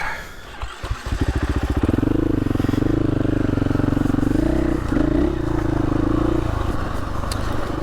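A dirt bike engine revs and roars up close while riding a singletrack trail in Arkansas, a continuous loud throbbing drone with rattling clatter that swells and eases as throttle changes.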